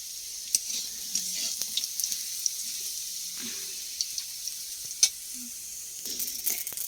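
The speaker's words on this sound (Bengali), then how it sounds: "আলু ভাজা বসিয়ে দিয়েই গেছিলাম পোস্ত দিয়ে আলু ভাজা" New potatoes frying with poppy seeds give a faint, quiet sizzle with scattered small crackles and pops.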